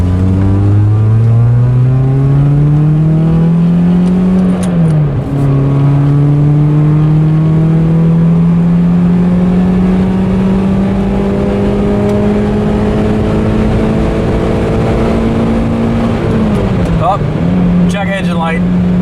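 A car with a newly replaced transmission accelerates onto a highway, its engine droning loud and close, rising steadily in pitch and dropping sharply twice as it shifts gears.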